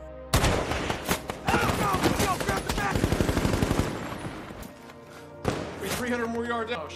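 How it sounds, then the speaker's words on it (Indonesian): Enemy sniper gunfire strikes soldiers in a war film, the American Sniper story: a loud, rapid burst of shots and impacts lasting several seconds, then a pause and another sharp report, with voices shouting underneath. "para pasukan ditembaki oleh sniper musuh"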